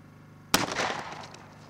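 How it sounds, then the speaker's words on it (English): A single loud shot from a Remington Versamax 12-gauge shotgun firing a Federal TruBall Deep Penetrator slug into a gelatin block at 7 yards, with a sharp crack followed by a rolling echo that fades over about a second. "I just loaded it with one of Federal's Premium TruBall Deep Penetrator 12-gauge slugs that I'm going to shoot into that gelatin block"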